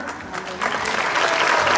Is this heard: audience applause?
yes